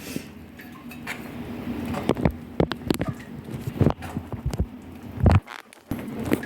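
Vermicelli kheer is served onto a plate, with a scattered series of light clinks and taps of spoon and dish, close and fairly quiet.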